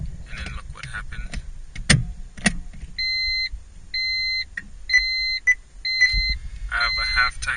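A car's dashboard chime sounds as the ignition key is turned to on without starting the engine, a series of evenly spaced electronic beeps after a few clicks, close and clear, with a person talking around them.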